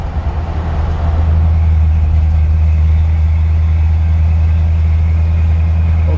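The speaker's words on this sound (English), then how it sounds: "Love the sound of the exhaust." A 1956 Ford F100 short bed shop truck idles with a steady, deep exhaust rumble, loud and close, holding an even throb without revving.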